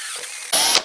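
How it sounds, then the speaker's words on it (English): A handheld power drill bores into copper for a wiring terminal at low speed, a single steady whirring burst about half a second long, loud and close, following a softer mechanical run-up. "Now when you're drilling copper, you want to go with a lower speed."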